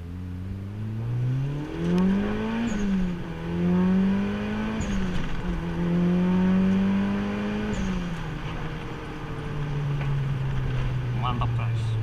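A Mitsubishi Lancer Evo IX MR with a single turbo accelerates hard, the engine note climbing through gears with dips at each shift, steady and loud from inside the cabin.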